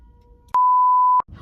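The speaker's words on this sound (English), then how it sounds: "That's what that noise is, that beeping." A single loud electronic car alarm beep, a pure steady tone lasting under a second, standing out against faint background noise.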